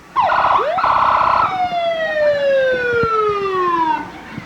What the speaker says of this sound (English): You remember when sirens didn't sound like a video game, Rick?